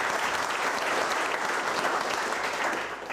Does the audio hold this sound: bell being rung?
no